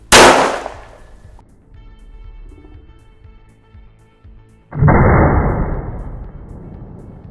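Two loud gunshots from a homemade Thai break-action pistol firing BB rounds, one at the start and another about five seconds later, each a sharp close blast with a long ringing decay, quiet handling noises in between.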